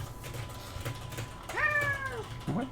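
A pet cat lets out one clear, drawn-out meow near the microphone against a quiet room hum, followed by a short, faint chirp a moment later.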